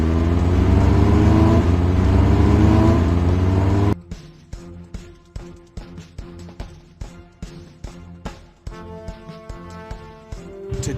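Fire truck engines in a Blaze and the Monster Machines video game, first a loud steady revving roar, then a run of rhythmic clicks with short rising engine bursts and a brief chime near the end.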